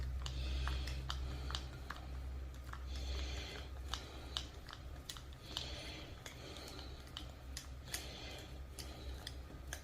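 Screws being turned out of a Traxxas E-Revo 2.0 RC truck's broken ring gear, a run of small, close, regular clicking ticks from the tool over a low hum.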